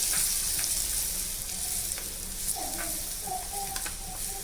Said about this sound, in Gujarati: હવે આ વઘારમાં આપણે લાલ મરચું લઈ રહ્યા છીએ